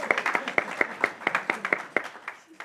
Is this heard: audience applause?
yes